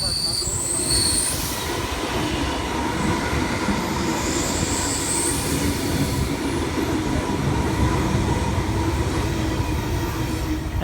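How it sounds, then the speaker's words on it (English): A Sydney Trains Tangara train runs through St Peters station with a loud, continuous rumble, and its wheels squeal in high, drawn-out tones along the platform. "City Circle service arriving into platform number 1"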